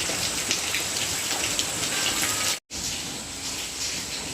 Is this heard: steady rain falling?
yes